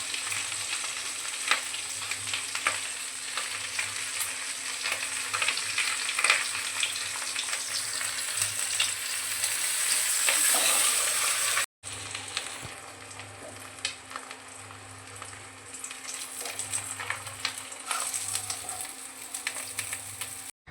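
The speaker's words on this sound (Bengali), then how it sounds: "আমি ছোট ছোট করে না ভেজে পুরোটাই একসাথে ভেজেছি।" Fish roe frying as one whole piece in a covered pan, a continuous close sizzle and crackle with pulsing oil spatter that briefly cuts out and resumes, no one talking.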